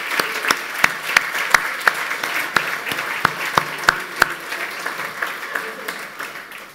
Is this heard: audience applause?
yes